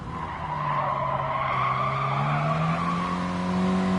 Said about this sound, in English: And you can hear that with the tyre squeal.